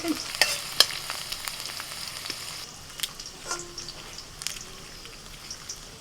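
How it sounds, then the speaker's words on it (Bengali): Garlic cloves fry in a pan, a soft crackling sizzle dotted with small sharp pops and occasional stirring clicks, close and fairly quiet without speech. "রসুনগুলো একটু লাল করে ভেজে তুলে নিচ্ছে"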